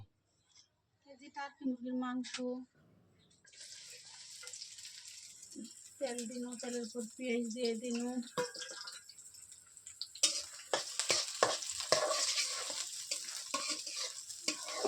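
Onion frying in a pan while meat is cooked gives a hissing sizzle that rises partway through, with stirring scrapes and clinks on top and occasional voices in the background.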